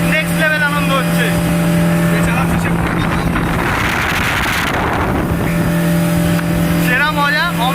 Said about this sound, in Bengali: পাত্রাতু ড্যামে এলে বোট রাইডিং মাস্ট